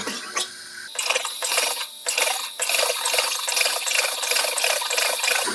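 A SodaStream machine carbonating sauce, its button pressed again and again: bursts of high, bubbly hissing and gurgling cut by short pauses, with mechanical clicks, fairly close and steady for several seconds.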